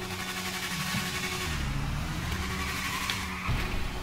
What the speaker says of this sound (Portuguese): Corte no túnel que é monstro, hein?